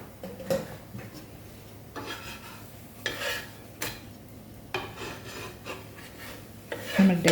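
Ghee is spread over a soft boli, a Trivandrum sweet flatbread, on a hot pan, making quiet intermittent rubbing and scraping strokes with a few louder swipes.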